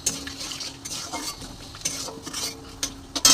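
Dried red chillies, cumin seeds and bay leaves crackle and sizzle in hot refined oil in a wok, mixed with metal utensils scraping and clinking against the pan.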